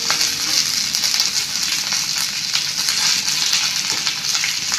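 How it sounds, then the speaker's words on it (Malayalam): Fennel seeds, black pepper, bay leaf, curry leaves and chopped ginger and garlic frying in oil in a pan for a Kerala chickpea curry, a steady, close, even sizzle with faint crackles throughout. "പച്ചമണം മാറുന്ന വരേക്കും ഒന്ന് ഇങ്ങനെ വറക്കണം."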